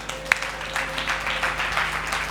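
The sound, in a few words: church congregation clapping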